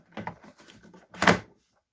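A Chicco FastLock 360 hook-on high chair snaps onto a table, giving a few soft plastic clunks and then one louder, sharp click near the end. The sounds are close by and there is no talking over them.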